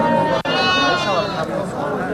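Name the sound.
sheep bleating at a livestock market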